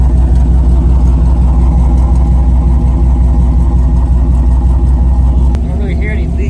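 A 2014 GMC Sierra 5.3 V8 fitted with long tube headers idles loudly and up close with a steady, rumbling pulse, and voices can be heard over it.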